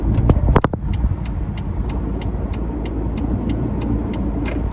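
Car driving home along a New York City road at night, a steady close road and engine rumble with a few sharp knocks near the start and faint repeating ticks throughout.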